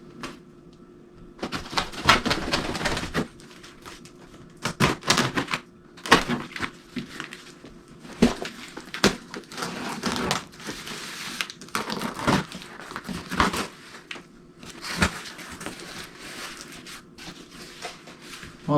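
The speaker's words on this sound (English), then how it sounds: "let's cut the tape here and see how well it's packaged" A cardboard shipping box holding a headless guitar is opened: packing tape is cut and cardboard flaps and packing material rustle, crinkle and thump in irregular bursts, close by, with quiet pauses between.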